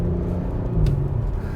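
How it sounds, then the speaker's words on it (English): Engine of a 2020 Audi SQ5 SUV burbling under acceleration, a steady loud low rumble from inside the cabin with a brief swell near the end. "You put your foot into it, you got a little bit of a burble for the sound."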